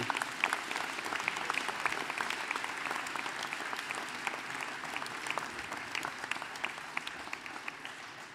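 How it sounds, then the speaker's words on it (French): An audience in a hall applauds a communication team after a film screening, giving a long, even wash of many hands clapping, moderately distant and continuous without a break. "je crois qu'il faut les applaudir très très fort."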